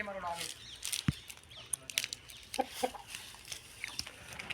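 An Aseel fighting rooster clucks in short bursts with scattered sharp calls, fairly faint, while people talk nearby.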